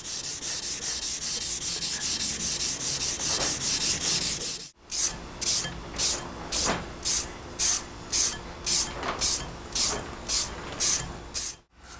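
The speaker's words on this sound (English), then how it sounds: "All we're doing right now is just blending everything in with a Scotch-Brite." A steel knife blade is hand sanded with a Scotch-Brite pad: a continuous scratchy rubbing, a brief pause, then about a dozen distinct back-and-forth strokes in a steady rhythm, close and fairly soft.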